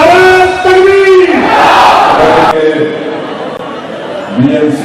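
Large political rally crowd at an election speech in Nagpada, Mumbai, shouting the Takbir chant in unison, a loud sustained roar of massed voices that cuts off abruptly, followed by quieter crowd murmur and a renewed swell.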